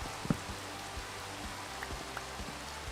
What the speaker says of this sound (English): literally starts raining anytime.